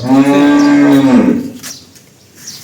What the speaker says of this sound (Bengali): এই যে এখন গরুটা দেখুন আপনারা